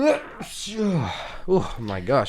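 A single quick sneeze bursts out among casual chatter, close to the microphone, with people talking before and after it.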